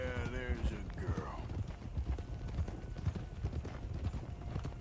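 Steady clip-clop of horse hooves in Red Dead Redemption 2, an even rhythmic trot running throughout, with a brief whinny-like tone and a voice speaking early on.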